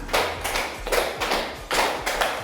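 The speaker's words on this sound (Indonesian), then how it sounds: "tepuk 1, tepuk 2, tepuk 3, tepuk 4, tepuk 5" Group of people in a classroom-style activity clapping together in a rhythmic pattern, producing clustered bursts of sharp claps with short pauses between each set, close and moderately loud.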